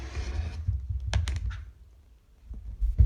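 Fabric is cut on a green cutting mat, with a brief close slicing scrape followed by a few soft taps and clicks, quiet and close.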